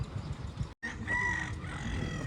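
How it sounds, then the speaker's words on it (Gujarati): A rooster crows near a temple town in the morning, a drawn-out tonal call that follows a short gap, set against a busy, murmuring background with no clear speech. "હવે ભાઈ કુકડા ઉઠાવ્યો"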